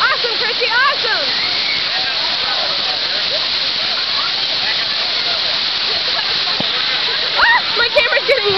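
Water pours and splashes continuously on an amusement park water ride, a loud, steady rushing spray close by, with voices shouting faintly over it at the start and end.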